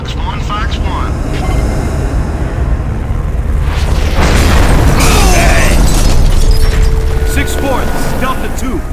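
Missile fire in the Gears of War video game: loud, rumbling explosions and bursts under a roaring aircraft-like drone, building to a heavy blast midway, with voices heard over the din.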